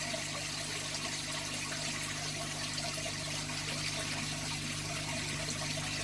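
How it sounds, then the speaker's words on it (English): Water carrying Artemia brine shrimp is poured into a neon tetra breeding tank, a steady, close, continuous splash and trickle with no pauses. "And now I'm just going to pour them in here."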